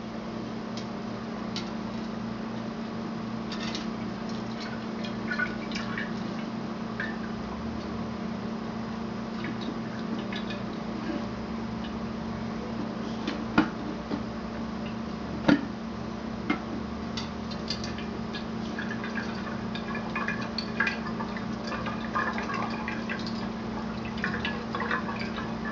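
Pine needle tea poured through a strainer over a pan, giving a steady, low liquid trickle with light scattered drips and a few small clinks for about half a minute, with no voices.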